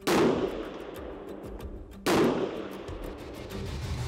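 Two loud Savage Arms rifle gunshots ring out about two seconds apart, each a sharp close blast followed by a long decaying echo, with no talking.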